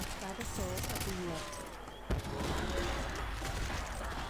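ACR rifle gunfire in a Call of Duty custom zombies map, with steady rapid shots running under dense game music and effects, plus one sharper bang near the middle.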